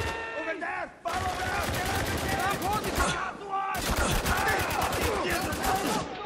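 Rapid bursts of AK rifle fire in the video game Spec Ops: The Line, two long loud volleys of fast, closely spaced shots with a brief lull between them.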